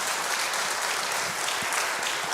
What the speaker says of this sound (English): how about a round of applause for all of our organists